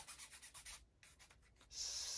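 Wooden toothpicks being sanded flush on a Ugears Heavy Boy Truck VM-03 wooden mechanical model kit, with quiet rhythmic rubbing strokes close up, then a steadier hiss of sanding.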